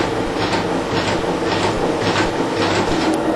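An FSN numbering machine runs steadily with its suction feeder pulling single sheets, a continuous mechanical whir overlaid with soft regular thumps roughly every half second, loud and close with no voices.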